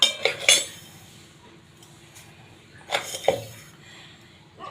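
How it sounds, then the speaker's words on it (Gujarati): Two large spoonfuls of sugar added to a pan of water for tea, each marked by a close cluster of metal spoon clinks and rattles against the pan, with quiet gaps between. "2 ચમચી મોટી ખાંડ નાખું છું।"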